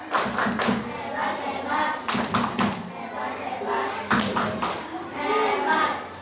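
A classroom does the patterned 'tepuk hebat' clap: bursts of sharp group claps in a rhythmic sequence, with children's voices chanting between and over the claps, close and lively.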